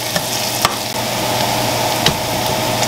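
Mushrooms browning in oil for a steak and mushroom soup give a steady, close, dense sizzle, broken by a few sharp clicks of stirring.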